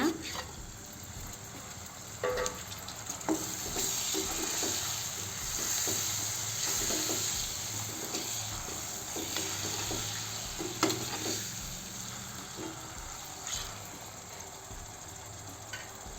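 Chopped tomatoes cooking on low heat in a pan give a continuous soft sizzle and bubbling, broken by occasional stirring clinks and scrapes.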